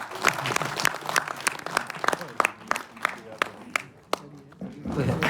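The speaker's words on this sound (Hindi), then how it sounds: "स्वागत करिए तालियों के साथ।" Applause at a Delhi Police retirement party, with distinct claps from a modest group ringing out close by in an irregular patter, mixed with talk and crowd murmur that swells toward the end.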